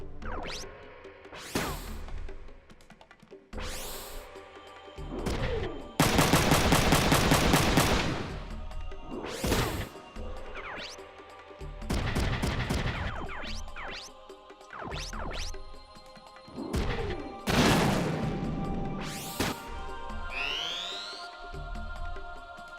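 Mech gunfire at tanks in the video game Front Mission 3 comes as repeated bursts of heavy automatic shots, with explosions and whooshing sweeps between them, loud and close, no speech.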